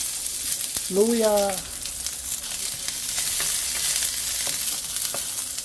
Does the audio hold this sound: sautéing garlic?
yes